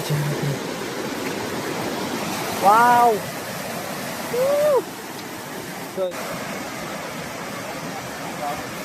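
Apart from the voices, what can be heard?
Bogatha waterfall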